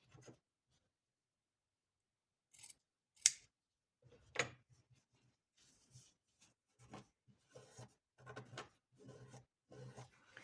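Scissors trimming patchwork fabric strips at close range, quiet crisp snips and soft rubbing of cloth in short irregular bursts with pauses of near silence between them.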